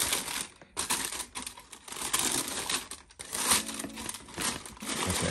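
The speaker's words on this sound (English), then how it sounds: "Let's pull back the paper." Crinkling and rustling of wrapping paper being pulled back inside the box of Air Jordan 6 Georgetown sneakers, a busy run of papery crackles close to the microphone with brief pauses.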